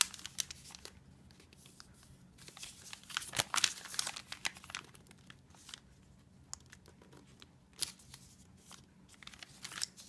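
A sheet of paper is creased and folded to make an origami Monarch star. Soft, close crinkles and rustles come in irregular bursts with quiet gaps between, and no one speaks.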